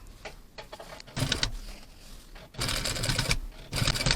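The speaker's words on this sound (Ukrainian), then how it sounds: "Закріпку не ставлю і прокладаю строчку догори." A sewing machine stitches a replacement zipper into a pair of jeans, running in short bursts of rapid mechanical clatter with pauses between them and occasional quiet talk.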